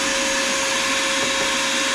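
A vacuum cleaner sucks up grit from an RBG-712 blade sharpener, a loud, steady, unbroken whine with a sharp tonal hum, close up and without talk.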